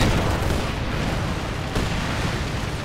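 A bunker collapses in the Company of Heroes 2 strategy game amid dense, continuous battle noise: heavy rumbling booms and crackling impacts with a sharper burst near the middle, loud throughout.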